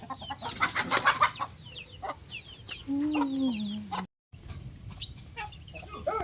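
Chickens cluck and chatter nearby, with a rooster-like drawn-out call in the middle and a brief dropout.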